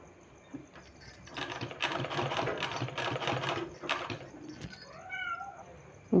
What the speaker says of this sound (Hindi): इस तरह से इसको हम इस तरह से रख के इसमें और सिलाई लगा लेंगे।